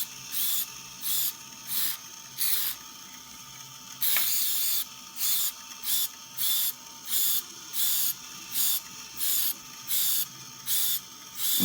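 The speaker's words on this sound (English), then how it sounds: "I'm going to spray." An aerosol can of craft bond adhesive releases one long, close hiss, surrounded by a regular pulsing mechanical clatter that comes and goes in short bursts before and after.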